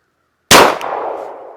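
A single close, loud gunshot from a Glock 19 pistol firing Winchester Q4429 147-grain jacketed hollow point ammunition, a sharp crack after silence followed by a decaying echo, no speech.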